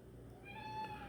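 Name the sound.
cat meowing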